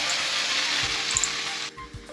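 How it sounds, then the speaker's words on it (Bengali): Fried potatoes dropped into cooked spice paste in a pan sizzle in a steady hiss with a few soft knocks, then the sizzle cuts off abruptly near the end. "এবার আমি এই যে ভাজা আলুগুলো দিয়ে দিচ্ছি।"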